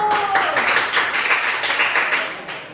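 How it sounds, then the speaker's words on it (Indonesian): Students in a classroom give a round of clapping for their classmates, a brisk patter of many hands, with a voice heard briefly at the start. "Tepuk tangan untuk teman-temannya dulu."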